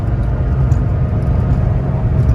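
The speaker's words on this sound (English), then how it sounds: "is the sound from the engine in the back." A Porsche 911's rear-mounted engine drones steadily through a drive in Manhattan, a low, constant rumble with road noise and no voices.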